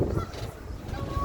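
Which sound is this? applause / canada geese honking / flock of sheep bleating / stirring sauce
canada geese honking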